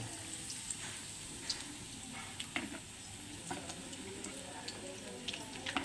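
Battered pumpkin flower fritters frying in hot oil give a steady, fine sizzling crackle with scattered small pops, running continuously beneath someone speaking.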